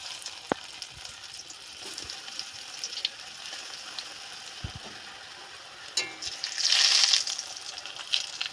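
A soft, steady sizzle of fish cutlets frying in hot oil in a wok, with occasional small pops and crackles and no talking.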